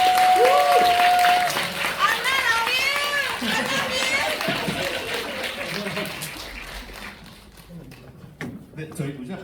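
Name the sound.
audience applause after film talk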